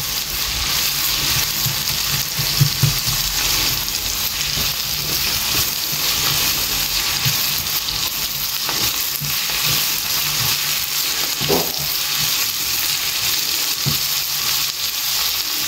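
Onions frying with a mixture in a pan, a loud constant sizzle with occasional stirring knocks, close and sustained throughout.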